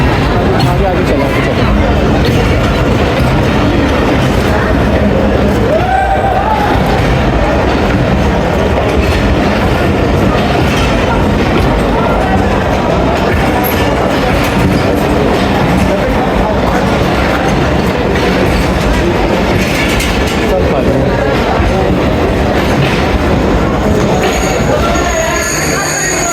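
The Awam Express and Rehman Baba Express, both passenger trains, arrive at Attock City Junction with a loud, continuous rumble and clattering wheels, faint squeals and station crowd noise around it.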